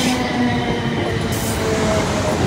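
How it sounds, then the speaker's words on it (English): A South Western Railway train rolls steadily through Clapham Junction station at close range, a continuous rumble with a faint metallic whine running throughout, no voices. "Another South Western Railway train going through."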